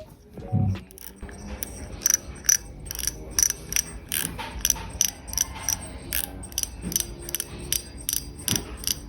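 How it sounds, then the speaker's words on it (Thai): Light, rapid clicking from the mechanism of a Ryobi Caspro FS 4000 aluminium-spool spinning reel, heard up close as steady ticking bursts while the handle turns, with some faint handling noise. "คลิกเสียงไม่ดังนะครับไม่ค่อยดังเท่าไหร่"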